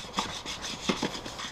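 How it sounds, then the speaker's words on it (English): Steady rhythmic rubbing strokes of a sanding block against a surface, repeated back and forth at close range with no talking. "And I'm going to start sanding it."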